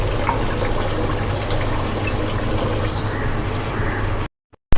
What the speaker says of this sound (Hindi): ये आधा कप तकरीबन पानी है जो मैंने इसमें डाल दिया है